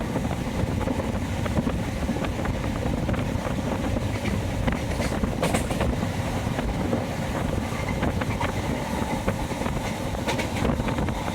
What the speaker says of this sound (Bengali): আমরা এখন নিউ পম্বন ব্রিজ দিয়ে যাচ্ছি, যেখান দিয়ে ট্রেন যাচ্ছে।